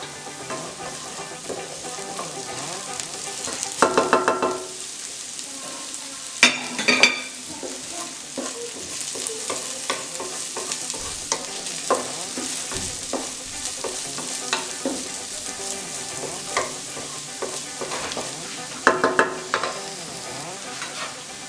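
Garlic, Scotch pepper and scallion fry in a pot for lentil bolognese, a steady sizzle broken by several louder bursts of stirring and scraping, with no talking.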